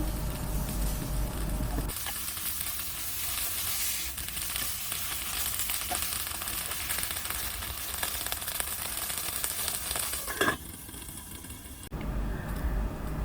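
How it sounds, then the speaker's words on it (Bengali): Bottle gourd leaf packets fry in a pan with a steady, close sizzle that runs almost without a break, while a few soft clatters of turning and handling come through partway. "এখন পাতার প্যাকেটগুলো উল্টিয়ে দেব যেন দুই পাশেই ভাজা হয়ে যায়"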